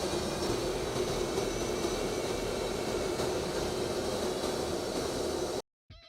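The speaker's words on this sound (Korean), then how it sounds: "페가스 2023 연합훈련을 진행하는 우리 공군 F-15K 전투기들의 모습입니다." Korean Air Force F-15K fighter jets at Gimhae air base during a joint exercise with French Rafales give a loud, steady broadband jet roar that holds unbroken for several seconds before cutting off abruptly near the end.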